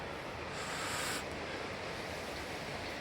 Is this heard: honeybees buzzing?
no